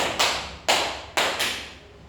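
Four sharp hand claps ring out one by one in an echoing room, evenly spaced, each fading in a short tail.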